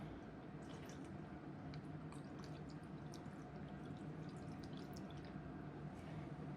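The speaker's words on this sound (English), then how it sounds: "I'm gonna put a little bit of water in here." Water is poured into a cooking pot holding scotch bonnet peppers as brisket is prepared, a faint steady trickle with small splashy drips that runs on without a break.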